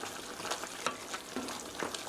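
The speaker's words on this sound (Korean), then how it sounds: "이렇게 저어서 고루 바깥에서 안쪽으로 이렇게" Tomato sauce for spaghetti stirred in a pan from the outside inward, soft scraping strokes over a low, steady sizzle, close but quiet, with no voices.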